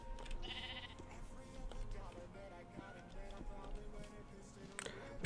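Sheep bleats in Minecraft, a few short synthetic calls rising over a busy game soundscape with footsteps and other effects, moderately faint throughout.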